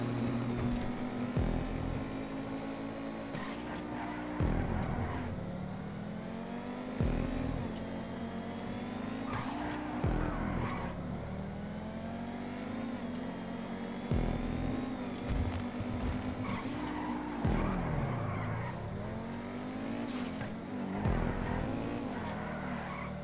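A Pegassi Osiris supercar, all-wheel drive, driven around a test track in GTA 5 Online, its engine revving up and down continuously with gear changes and brief tire squeals, moderately loud and steady for the whole stretch.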